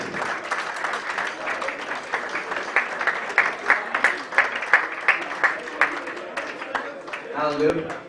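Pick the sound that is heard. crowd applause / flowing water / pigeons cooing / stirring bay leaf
crowd applause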